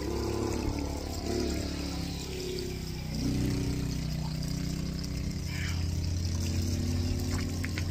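Free spring water runs steadily in Benguet, a continuous flowing, trickling wash with a low engine-like rumble underneath and no talk over it.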